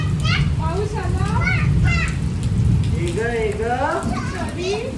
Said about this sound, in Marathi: झाला पाऊस आला